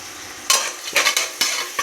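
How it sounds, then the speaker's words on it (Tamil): Onions sautéing in a pan for tomato rice, with a few loud, close bursts of stirring and scraping over a low sizzle, each stroke brief and bright. "நல்லா இந்த மாதிரி வதக்கிக்கிட்டு இருக்கேன்"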